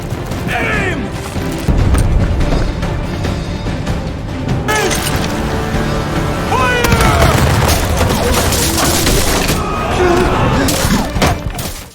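Cannons fire during a naval battle scene in a film, heavy booms, crashes and splintering impacts overlapping in a dense, loud barrage, with voices shouting amid the din.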